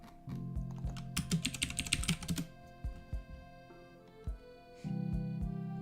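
Keys tapped on a computer keyboard while entering a search, a fast flurry of close clicks followed by a few sparse taps, with a constant low hum behind.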